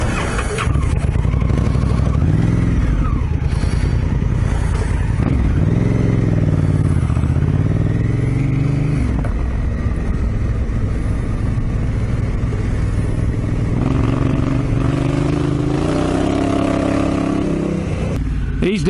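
A red Honda Africa Twin motorcycle approaches on a ride, its engine revving and droning under heavy wind rush, with some clattering, heard close through a helmet intercom.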